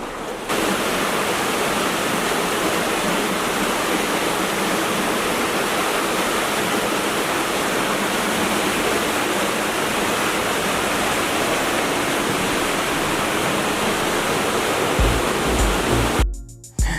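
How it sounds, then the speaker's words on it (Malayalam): Many small and large waterfalls pour inside a cave, making a loud, steady, unbroken roar of rushing water that carries on without a break and cuts off abruptly near the end. "ഒരുപാട് ചെറുതും വലുതുമായ ഒരുപാട് വെള്ളച്ചാട്ടങ്ങളൊക്കെ ഈ ഗുഹേൻ്റെ അകത്തുണ്ട്"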